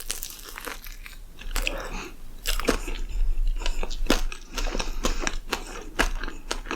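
Mukbang ASMR eating from Greece: loud, close crunching and biting of crisp food with repeated chewing bursts throughout, no speech.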